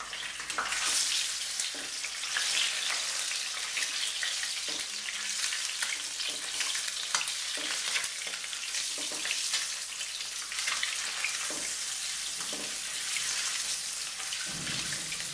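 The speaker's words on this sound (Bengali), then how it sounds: "কড়াইতে তেল গরম করে ডিম ভেজে তুলে নেব।" Duck eggs fry in hot oil in a kadai, a continuous crackling sizzle with scattered pops and spits, close and steady throughout.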